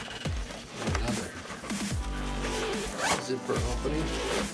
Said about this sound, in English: zipper opening